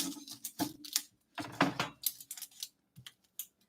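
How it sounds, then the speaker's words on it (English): Scissors cutting a plastic baggie in a kitchen, a run of short crisp snips and rustles, some quick and clustered, others spaced apart, close and fairly quiet. "I got a baggie to cut"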